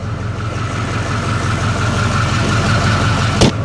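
Ford cabover truck engine idling, a loud steady low rumble with a regular throbbing pulse heard close up, holding even throughout, with a brief sharp knock near the end and no talking.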